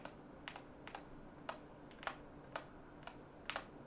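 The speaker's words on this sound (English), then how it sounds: "So for example, I'm pressing the Windows key." Keys on a Mechlands M75 Hall Effect keyboard with magnetic switches are pressed in a steady series of light, crisp clicks, roughly twice a second, close and quiet with no talking.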